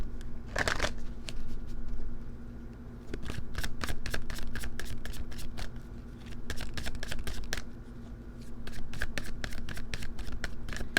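A deck of cards is shuffled repeatedly up close, bursts of rapid flicking riffles separated by brief pauses, over a faint steady hum.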